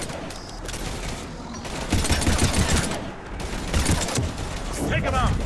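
Sustained gunfire against husks in Mass Effect 3 comes as dense bursts of automatic shots over a loud battle mix, rising in waves and ending with a metallic ricochet-like whine.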